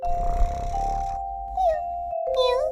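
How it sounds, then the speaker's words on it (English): A cat meows twice in short, rising calls after a stretch of steady background tone, the meows close and clear. "A cat is a small furry animal with whiskers that usually lives in your house."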